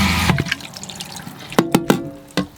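A cup rinser in the sink of a 2015 Ford Transit camper van sprays water in brief bursts, with splashing and dripping and a few sharp knocks of the cup pressing down, close and fairly loud.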